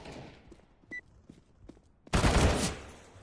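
Counter-Strike: Global Offensive gunfire, a sharp loud burst of several shots close by, following a few quieter taps and footstep-like clicks.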